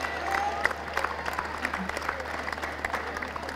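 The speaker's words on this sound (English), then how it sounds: "Applause all around and very well deserved" Sustained applause from a crowd at a post-match presentation after the second Test between Pakistan and England, with steady clapping that holds its level throughout.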